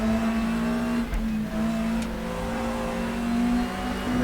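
Volvo race car engine in RaceRoom Racing Experience, a loud, steady mechanical drone holding one pitch, close and continuous with faint ticks, alone without voices.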